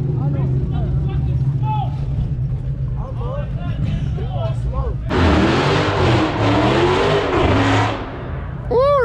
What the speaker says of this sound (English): The charger going crazy. Is that a Hellcat?